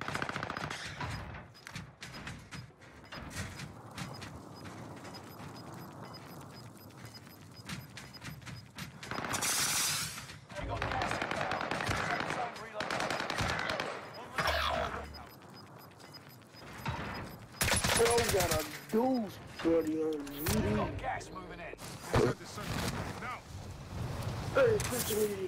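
Bursts of MP40 submachine gun fire ring out in Warzone on Rebirth Island, loud rapid volleys between quieter stretches, with players talking over the fighting.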